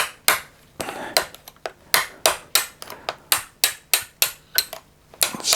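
A hammer strikes metal parts of an X-Maxx RC car about fourteen times in a quick, uneven rhythm, each blow a sharp, close, ringing crack that fades fast before the next.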